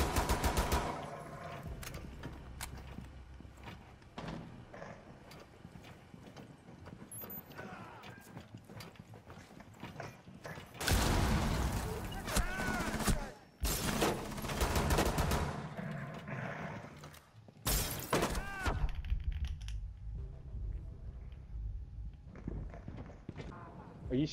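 Video game gunfire crackles in scattered bursts and rapid volleys, loud and close, amid busy game noise and hoofbeat-like thuds, with someone talking over parts of it.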